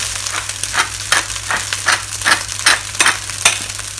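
Thai pineapple fried rice with chicken and shrimp stir-fried in a pan after white pepper goes in: rhythmic scraping tosses about every half second over a bright, steady sizzle, close and loud, no talking.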